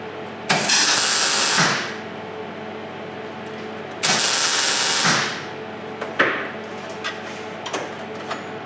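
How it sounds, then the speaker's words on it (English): A MIG welder spot welds a car floor panel on a Super 7 Locost build, producing two loud crackling bursts of about a second each separated by a pause, followed by softer clanks and taps. "The MIG welder makes a quick work out of spot welding."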